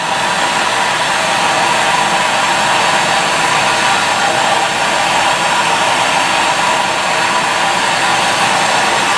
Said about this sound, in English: let's fire up the torch